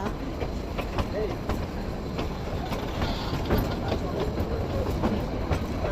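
Kalka-Shimla toy train rolling along its mountain railway, heard as a steady rumble with rhythmic wheel clicks on the rails, fairly close and continuous throughout.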